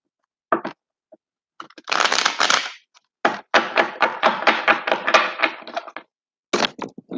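Tarot cards are shuffled by hand in quick riffling bursts, with a long rattling run in the middle, separated by short quiet pauses; nearby and alone, with no talking.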